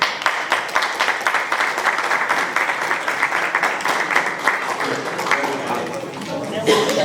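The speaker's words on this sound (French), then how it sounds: "Applaudissez pour..." Wedding guests at a customary marriage ceremony applaud, producing dense, continuous clapping with a rhythmic beat running through it, easing slightly near the end before picking up again.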